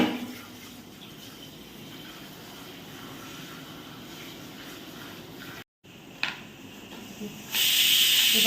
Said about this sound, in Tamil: குக்கர் வந்து விட்டு வந்துருக்கு.